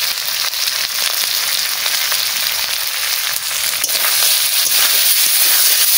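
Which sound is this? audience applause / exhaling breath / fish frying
fish frying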